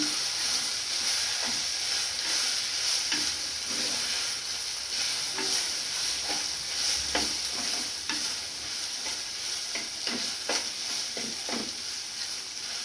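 Stingray pieces tossed with grated coconut and turmeric in a pan, a steady frying sizzle broken by repeated scraping stirs of a spoon, close and continuous with no talk.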